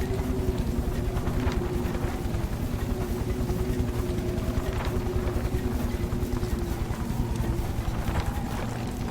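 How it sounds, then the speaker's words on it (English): An engine running steadily in The Book of Unwritten Tales video game, a continuous low droning hum with a faint rhythmic chug, moderately loud and unbroken throughout. "You hear that engine?"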